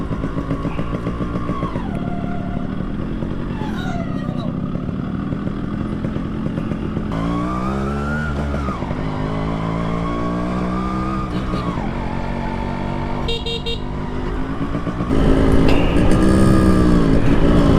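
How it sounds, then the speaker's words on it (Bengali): A motorcycle riding ahead on the road drones loudly and continuously, its engine pitch repeatedly rising and falling through revs and gear changes, then growing louder near the end. "দেখেন একটা আমার সামনে কি বাইক চলতেছে ভাই, এর যে সাউন্ড, এটা তো মাথা নষ্ট একটা সাউন্ড।"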